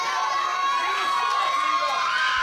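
A wrestling crowd at an independent show cheers and shouts steadily, a dense, sustained roar of voices with higher-pitched yells, loud and continuous.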